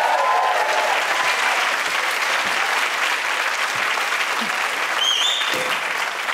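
An awards-ceremony audience applauds loudly and continuously, a broad even wash of clapping with a few faint whoops rising above it.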